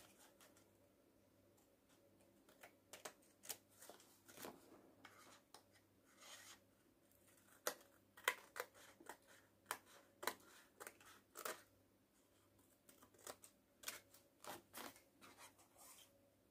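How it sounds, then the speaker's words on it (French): Scissors snip and rasp through paper while a simple handmade card is cut out, giving a quiet, close series of irregular crisp cuts and rubs. "Donc je prends les ciseaux, c'est mieux"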